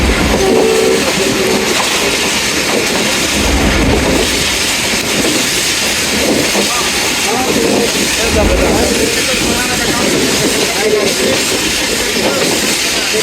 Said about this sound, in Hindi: संजानी रेलवे स्टेशन को पास कर रही है हमारी ट्रेन